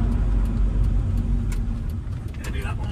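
A Vauxhall VX220 sports car's engine hums steadily at low revs while the car turns around at slow speed, heard up close from inside the cabin.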